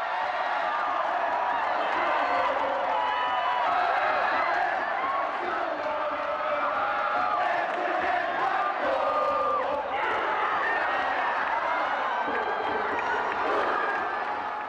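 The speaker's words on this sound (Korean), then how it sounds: "큰 리액션과 함성으로 후배의 득점을 축하해줍니다" A stadium crowd at a K League Super Match roars and cheers for a second goal, with shouting and whoops in a dense, continuous wall of noise that swells and holds.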